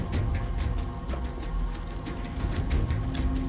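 Keys jangle and clink in short metallic bursts against a low rumbling background.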